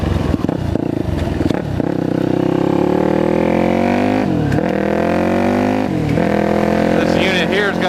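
A loud supermoto motorcycle with a blown-out FMF slip-on exhaust roars close by, its engine revving up and dropping back several times with rough, crackling exhaust, while a rider talks over it.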